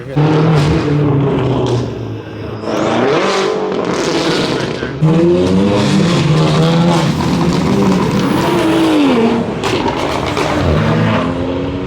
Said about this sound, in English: there's for sure like over 200 cars